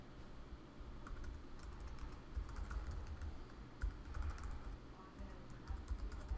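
A username being typed on a computer keyboard, a quiet, close run of rapid key clicks in an uneven rhythm over a low background hum.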